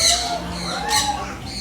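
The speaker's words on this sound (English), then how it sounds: "They are very noisy birds." Sun conure parrots at a bird show give loud, shrill squawks nearby, two sharp calls over a busy background of chirping, without talk.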